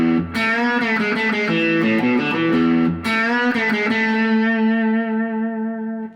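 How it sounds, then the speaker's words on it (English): Upbeat rock riff on a heavily distorted electric guitar, played in harmonized octaves and thirds, loud and continuous with a brief break near three seconds, played alone. "an upbeat sort of rock riff that's very different from the first part"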